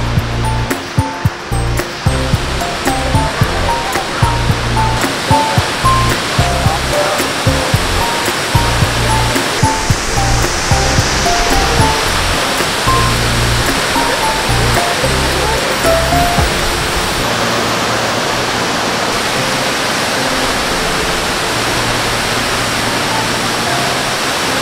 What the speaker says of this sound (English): That's coming from the Grizzly Falls.